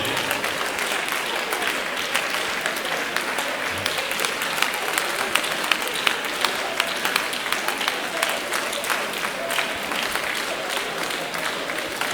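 A church congregation claps steadily through a lively worship service, a dense continuous applause that fills the room, with faint voices and shouts mixed in underneath.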